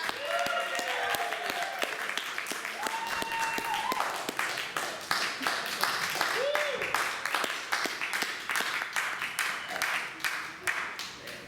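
A theater audience at a stand-up comedy show claps for a comedian. Clear individual claps and scattered applause carry on steadily for several seconds, with voices and whoops rising over it now and then.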